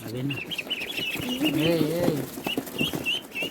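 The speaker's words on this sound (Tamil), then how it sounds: "இது வந்து நாட்டு வாத்து" Native country ducks quack and chatter nearby with bursts of flapping wings, while a person's voice mixes in at times.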